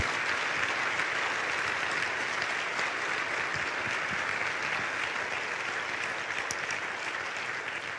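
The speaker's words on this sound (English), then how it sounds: "Would you all please just give a round of applause as I give love to Senator Harkin." Hall audience at a Teach For America gala in Washington, D.C. gives Senator Harkin a sustained round of applause, thick and continuous clapping filling the room at a steady level for the whole stretch.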